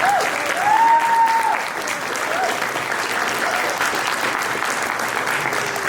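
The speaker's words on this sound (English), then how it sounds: "So please give yourselves a round of applause." A panel audience at a WonderCon fan convention breaks into applause, a dense roomful of clapping that holds steady across the whole stretch.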